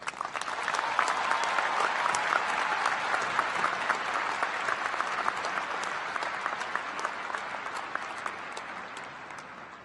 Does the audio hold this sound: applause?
yes